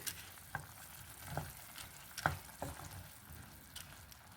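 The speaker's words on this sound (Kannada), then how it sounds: "ಇವಾಗ ನೀರ ಬಾಯ್ಲ್ ಆಗತೈತಿ ಹುರ್ಕೊಂಡಿರೋ ಓಟ್ಸ್ ಹಾಕ್ತೀನಿ ಸೊ ಹಾಕಿ ಚಲೋತಂಗೆ ಮಿಕ್ಸ್ ಮಾಡ್ತೀನಿ" Roasted oats are stirred into boiling water in a pan, giving quiet bubbling with a handful of sharp spoon clinks and scrapes at irregular intervals, faint and close.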